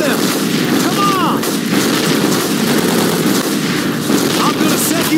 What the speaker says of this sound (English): Enemy contact! Japanese artillery!